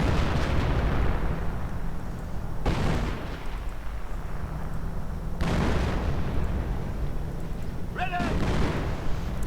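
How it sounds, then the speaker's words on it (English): Artillery barrage in a World War II real-time strategy game: repeated heavy booming blasts arrive roughly every few seconds over a constant loud rumble of battle. "Artillery getting called."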